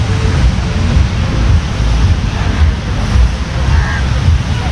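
Waves and wind on Calangute Beach in Goa make a steady, loud wash of surf. Gusts buffet the microphone throughout, and there is no clear speech.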